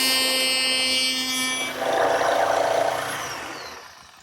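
Router cutting a groove end to end along a back rail, a loud steady high whine that deepens into a rougher cutting roar midway, then fades as the pass ends.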